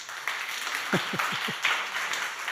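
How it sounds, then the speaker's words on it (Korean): A church congregation applauds the sharing committee during a special worship service, a steady wash of many hands clapping at moderate distance, with a few closer low thumps in the middle. "이참에 우리 나눔위원회에 박수 한번 드리겠습니다."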